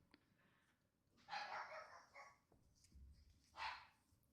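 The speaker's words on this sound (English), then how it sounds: "And my dog's barking again." A pet dog barks in a few bursts somewhere in the background of a home, the yips coming in short clusters at moderate distance with quiet room tone between them.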